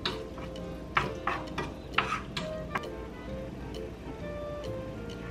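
Chicken breast frying in a pan with oyster sauce, stirred by a utensil that knocks and scrapes in irregular taps over a soft steady sizzle, close and quiet.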